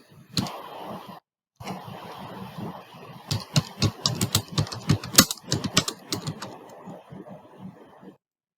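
Fingers typing a search topic on a computer keyboard, a close, irregular patter of key clicks with a short pause early on and denser, sharper keystrokes toward the end.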